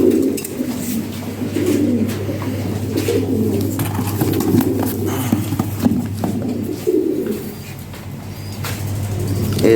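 Pigeons, red-beaked and red-eyed birds being sold for delivery, coo repeatedly in soft rolling phrases close by, over a constant low hum and some background traffic noise.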